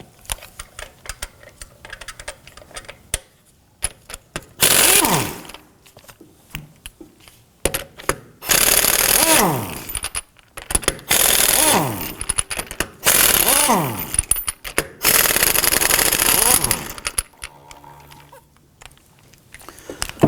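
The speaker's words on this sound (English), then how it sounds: "we're going to go ahead and loosen and remove our lug nuts here" Lug nuts, including a locking lug nut, are loosened and removed from the rear wheel of a 2005-2009 Subaru Legacy, heard as several loud bursts of impact-wrench rattling separated by pauses.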